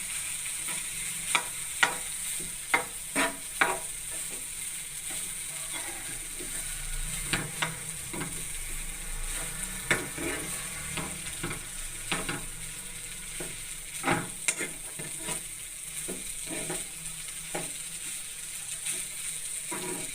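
Rice mixture for a tomato recipe is stirred in a sizzling frying pan, with a steady frying hiss and repeated scraping, clicking spoon strokes close by and no talking.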